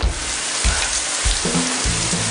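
Heavy rain pouring down, a dense, loud, continuous hiss with low rumbling thumps underneath.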